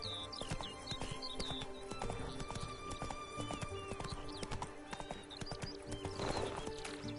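Roach the horse gallops in The Witcher 3, with rapid rhythmic clip-clop hoofbeats, close and continuous, amid game ambience and a brief whinny.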